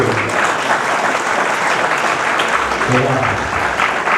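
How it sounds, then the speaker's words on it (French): An audience at a trading conference applauds loudly and steadily, with dense clapping filling the whole moment, while a few voices murmur faintly underneath. "On va les applaudir très fort public."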